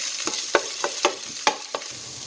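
Onion, green chili, crushed ginger and garlic, and curry leaves being stirred in a pan: a soft sizzle beneath about six sharp spoon scrapes in quick, uneven succession, close and clear, with no voices.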